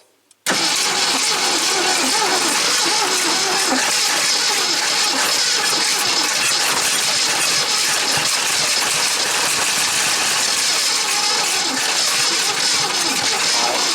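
A 1973 AMC Gremlin with a 5.0 V8 cranking as it tries to start, a sudden onset of loud, continuous starter grinding and engine churning that runs unbroken for over thirteen seconds, close up.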